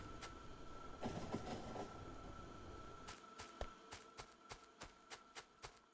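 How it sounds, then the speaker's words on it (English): A train in the video game Factorio rumbles past with a broad roar, then its wheels clack over rail joints in a quickening rhythmic series of sharp knocks. "Here comes the train."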